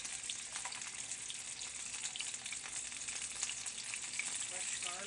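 Fresh garlic sizzling in butter in a pan, a soft continuous crackle and hiss with faint spattering, close by and fairly quiet, no talking.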